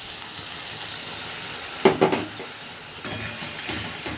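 Poppy seed paste being stirred into boiled bitter gourd and potato in a pan, a low sizzle with a few scraping knocks of the spoon against the pan partway through.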